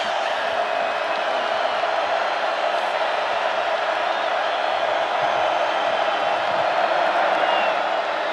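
A large stadium crowd roars at a college football game between Texas and Oklahoma State, a dense, loud, unbroken wash of noise with no distinct cheers standing out.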